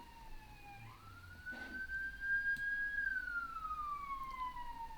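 A police siren wails faintly in the distance, rising and falling in long smooth sweeps over quiet background traffic hum.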